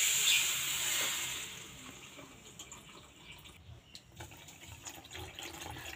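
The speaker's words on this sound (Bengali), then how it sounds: "যতটা চিনি ঠিক ততটাই কিন্তু দিয়ে দেবো জল" Water pours onto sugar in a pan to make syrup, a gushing splash that is loudest at the start and fades into faint trickling and small clinks.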